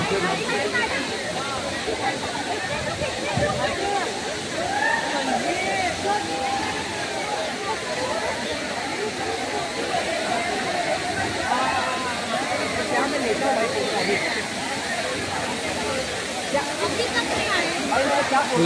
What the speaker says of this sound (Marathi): ह्या धबधब्याचे पाणी हे इथून असे खाली प्रवाहित होते